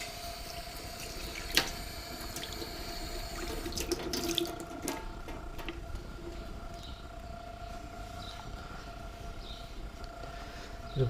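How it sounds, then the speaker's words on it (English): Espresso machine parts from a Decent Espresso setup are rinsed under a running kitchen tap, a steady stream of water broken by a few light clinks and splashes. "quick rinse out under the tap."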